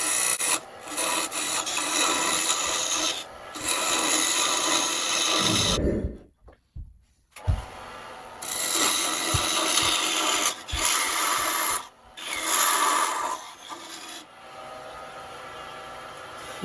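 Hand tools scrape and rasp inside the crown hole of a segmented wooden spinning top, a continuous close gritty rubbing broken by short pauses and a few sharp knocks, with no talk.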